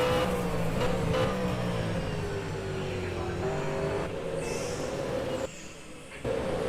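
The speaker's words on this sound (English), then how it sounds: "Let's hear the roar of that engine as they scream down the start finish line for the first time." V8 race cars at Bathurst roar down the start-finish line, a loud sustained engine drone with shifting pitch that fades briefly near the end, with faint voices underneath.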